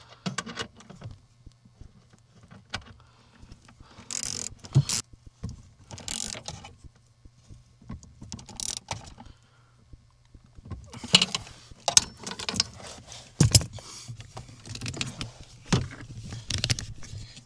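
Hand tools tightening bolts on a car hydroboost during replacement: scattered metallic clicks, ratcheting and clinks come in short bursts separated by quiet gaps, growing busier toward the end, close and fairly crisp.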